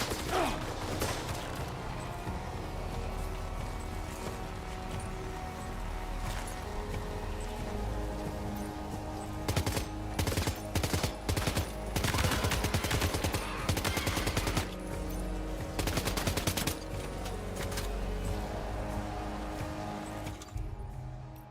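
Gunfire in Death Stranding 2: On the Beach, with repeated bursts of shots over steady game music and mechanical noise, growing denser and louder in the middle of the stretch.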